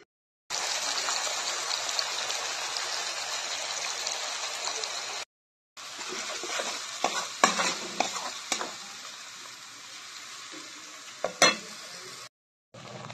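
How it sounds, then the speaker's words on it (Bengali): Tomato, garlic and green chili paste sautéing in hot oil in a kadai gives a loud, steady sizzle and hiss that breaks off briefly, then returns with stirring scrapes and a few sharp clanks. "আমি এই পেস্টটিকে কিছুক্ষণ ধরে কষিয়ে নিলাম"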